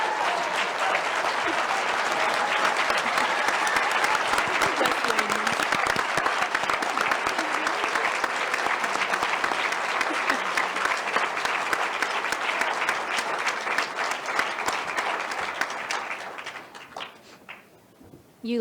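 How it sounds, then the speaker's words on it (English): Sustained audience applause at a youth event on diversity and belonging in Canada, loud and dense with continuous clapping for about sixteen seconds before tapering off near the end. "I'm going to ask you to not clap impolitely and really give it up for these guys"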